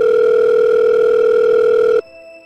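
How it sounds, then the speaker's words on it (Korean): While a call is placed through a telephone safe-number service, a steady electronic ringing tone sounds loud and close for about two seconds, then cuts off abruptly and leaves faint residual noise. "안심번호로 전화를 했다."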